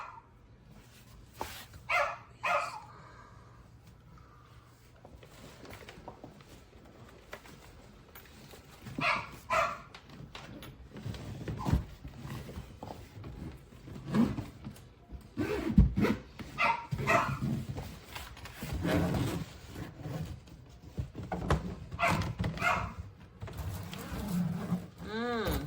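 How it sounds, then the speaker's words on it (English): A pet dog barks and whimpers indoors in repeated bursts across the clip, loud and close, with people talking between and over the barks while a spinner-wheel ABS suitcase is handled. "I apologize for our dog."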